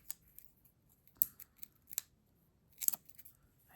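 Scissors snip paper for a handmade Halloween card, giving a few quiet, crisp, close cuts spaced irregularly over near silence.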